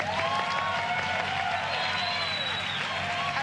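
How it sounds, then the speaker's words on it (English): Rapturous audience applause fills a television studio, steady and dense throughout at moderate level, with scattered crowd voices mixed in. "emerge to your rapturous applause"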